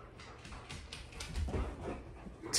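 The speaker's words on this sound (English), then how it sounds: "Enough clickbait with the dog." A dog panting in quick breathy puffs, with faint whimpers scattered through, close by and fairly quiet.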